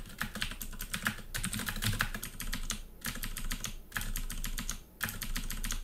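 Rapid typing on a computer keyboard while playing the roguelike game Dungeon Crawl Stone Soup, close clattering keystrokes in quick bursts separated by short pauses.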